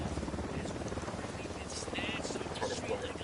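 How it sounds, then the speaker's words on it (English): A helicopter's rotor drone hums steadily in the Ghost Recon Wildlands video game, underneath ongoing gameplay sounds and gunfire-like bursts, fairly constant in level throughout. "Helicopter, get down."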